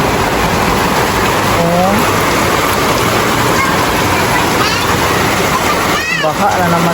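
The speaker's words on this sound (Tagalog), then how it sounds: "Grabe, ang lakas ng ulan." Heavy rain pours down steadily and loudly, a dense continuous hiss with splashing, while a voice briefly exclaims over it.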